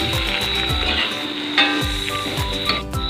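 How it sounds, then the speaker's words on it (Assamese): Soaked peas hit a hot pan of oil for a paneer and cream dish, setting off a loud, steady sizzle and frying crackle that continues throughout, with some clattering of the pan. "তিয়াই থোৱা মটৰখিনি আমি ঢালি দিলোঁ"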